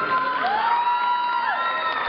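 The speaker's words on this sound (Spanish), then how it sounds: "Fuerte aplauso" Audience at a dance exhibition cheering and whooping continuously, a loud dense crowd with high shouts and whistles sliding over steady roar, no clear clapping.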